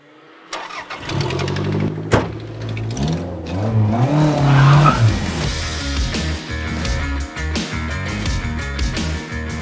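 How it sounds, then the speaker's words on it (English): A turbocharged Toyota RAV4 with a 3S-GTE engine, a unit from the Celica GT4 rally car, cranks and fires up, then revs and drives off. A loud, rising and falling engine note stays close for the rest of the run. "It's my turn now to go for a spin in a turbocharged car."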